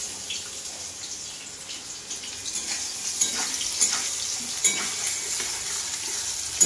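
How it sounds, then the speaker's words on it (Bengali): Chopped onion fries in hot oil for a Bengali potol-potato dish, giving a steady close sizzle with occasional stirring scrapes and small louder crackles throughout. "এটা আমি ভালোভাবে লাল করে ভাজবো।"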